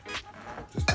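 A spoon clinks against a bowl while meatloaf ingredients are mixed, a few sharp, close metallic taps, the last two louder and quickly one after another.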